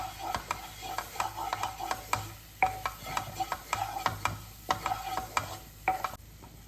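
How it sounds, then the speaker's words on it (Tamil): Maida flour and garlic being stirred in a frying pan, with repeated sharp scrapes of a spoon against the pan over a soft steady sizzle. No one speaks. "நம்ம இப்போ வந்து மைதா சேர்த்துடலாம். அது நல்லா ஒரு நிமிஷம் வந்து நல்லா குக் பண்ணி எடுத்துக்கலாம்."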